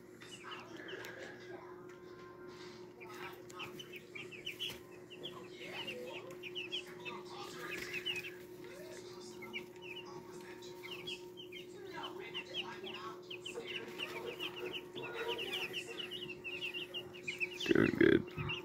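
Baby White Rock chicks, three days old, peep and cluck on pine shavings and hay bedding, a continuous chorus of thin high chirps with a low steady hum underneath and a louder burst near the end.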